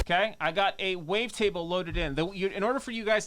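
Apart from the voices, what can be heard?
No everyday noise stands out behind the speech.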